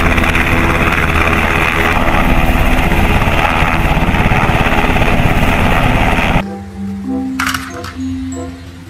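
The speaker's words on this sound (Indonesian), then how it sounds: "Helikopter." A steady, loud rotor-and-engine drone fills the first several seconds, then drops away abruptly to quieter, scattered sounds.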